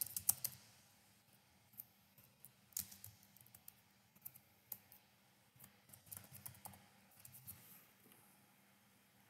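Someone types on a computer keyboard to enter an email address in Outlook, giving a soft, irregular patter of close key clicks over a quiet room hum, with no voice.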